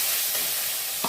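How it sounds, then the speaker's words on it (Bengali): Banana flower, ginger and green chilli frying in a pan give a steady, close, moderately loud sizzle, with a short stirring scrape near the end and no talking. "দিয়ে আমি এই এই মোচা, আদা, কাঁচা লঙ্কা এটা আমি ভেজে নিচ্ছি।"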